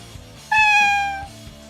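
A cat meows once in a video game, a single clear, drawn-out tonal call of about three-quarters of a second, loud and close over a soft background music bed.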